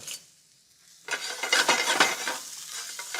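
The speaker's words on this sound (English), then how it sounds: "I want to sweat these shallots until they're translucent" Finely chopped shallots sweat in butter in a pan, starting after a near-silent pause with a sudden soft sizzle, then steady crackling and spoon scraping that rises and fades, close and moderately loud.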